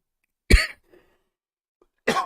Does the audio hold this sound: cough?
yes